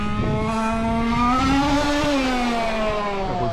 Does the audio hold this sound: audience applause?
no